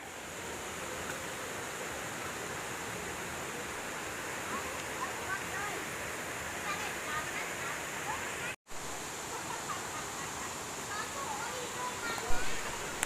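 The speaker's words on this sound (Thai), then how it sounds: "น้ำเชี่ยวน้ำไหลดีนะคะ" Rushing water at the Nan Tha San waterfall, a steady broadband roar of fast-flowing stream water that stays constant and close throughout, with one very brief dropout partway through.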